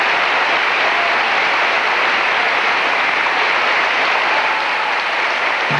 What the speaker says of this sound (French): 2 minutes et demie d'applaudissements